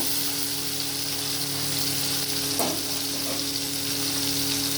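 Whole cumin seeds and tomato fry in hot oil, making a dense, even sizzling hiss that holds steady throughout at close range, with one brief scrape partway through.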